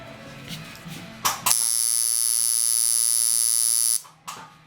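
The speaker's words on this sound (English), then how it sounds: "That's pretty close to where I like to run my liner at." A tattoo liner machine, tuned to about 115 cycles per second at roughly 55 percent duty, runs as a steady, loud electric buzz for about two and a half seconds, starting and stopping abruptly between faint handling noises.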